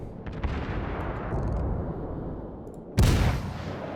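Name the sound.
warship guns firing in video game World of Warships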